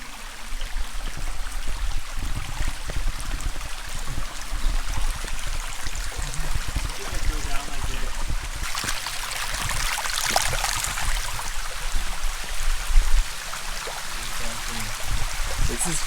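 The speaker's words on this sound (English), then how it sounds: "the water that feeds Sheki just goes down these streams that go through the roads that cars pass over as well" Water runs down open streams that cross the roads of Sheki, Azerbaijan, making a steady, close rushing and trickling that swells briefly midway.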